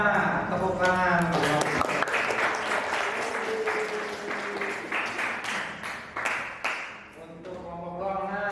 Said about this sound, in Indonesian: Oke, selamat, tepuk tangan.